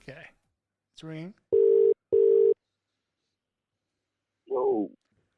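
An outgoing telephone call gives two long ringback tones in a double-ring pattern, clear and steady, with brief voice fragments before and after.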